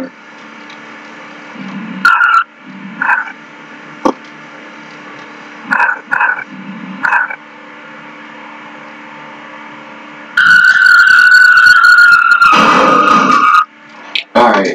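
A car skids on ice in a vehicle simulator video game, with engine whines and revving bursts rising in a long loud stretch near the end, between short spoken remarks.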